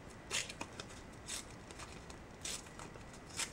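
Paper torn off by hand for an art journal, several short dry rips and crinkles at irregular intervals, close and quiet, with no talking.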